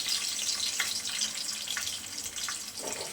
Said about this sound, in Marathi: तेल छान तापलं की जिरं राई लगेच पुड्या मारायला लागलं बघू शकता तुम्ही